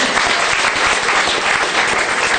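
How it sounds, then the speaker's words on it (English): An audience on a studio backlot tour applauds volunteers, loud and close, a continuous dense burst of clapping with no talk over it. "How about a thunderous round of applause for our brave and talented volunteers?"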